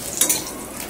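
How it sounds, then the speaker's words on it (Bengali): Cauliflower frying in a wok, a short burst of hot-oil sizzle with a quick scrape of stirring, close and steady. "তো ফুলকপিটা আগে ভেজে নিলাম"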